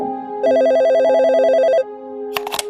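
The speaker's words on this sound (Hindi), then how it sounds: "तभी अचानक पिज्जा शॉप का फोन बजा।" A loud electronic telephone ring at a pizza shop trills for about a second and a half, then stops, followed by a few faint clicks.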